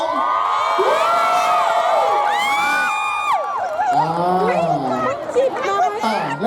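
A group of fans cheers for the Thai national volleyball team at a Thai festival in Tokyo, with loud, close whoops and high shouts that rise together and then break into excited chatter and scattered yells.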